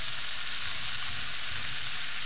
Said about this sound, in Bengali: এবারে আলুটা দিয়েও কষাবো